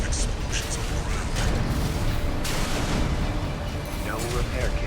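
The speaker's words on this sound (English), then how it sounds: "Use your mobility in the air to get clear of explosions on the ground" Explosions go off in the Armored Core 6 mech combat video game, a dense rumble of booms and blasts with sharp crackling hits layered over steady low roar, heavy throughout.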